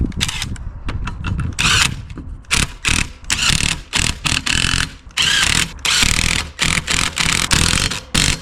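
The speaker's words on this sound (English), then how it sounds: "I just need to unscrew the wheels and change the tires" Ratcheting lug wrench loosening car wheel nuts during a tire change, loud close bursts of rapid clicking that start and stop repeatedly in short runs.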